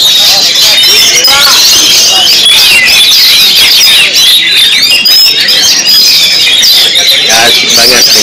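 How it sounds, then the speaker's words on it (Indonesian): Dense, loud chorus of competing songbirds at a songbird singing contest during a military anniversary festival, with many overlapping whistles and trills continuing nonstop alongside crowd voices and talk. "Ya asik banget dengerin suara kicau."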